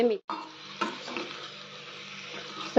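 Turmeric and sambar masala stirred in a frying pan, a soft, low sizzle with several scraping strokes of a spoon, close and fairly quiet, with brief voice fragments at the start and end.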